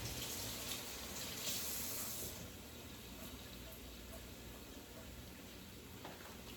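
Tap water runs steadily over a head of cabbage at a kitchen sink, a continuous close splashing rush that eases slightly partway through, with no talking.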